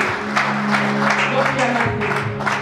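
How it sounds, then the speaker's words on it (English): Applause from a church congregation during a prophecy and deliverance service, a steady wash of clapping with a sustained organ or keyboard chord underneath and some voices mixed in. "Can you clap for Jesus?"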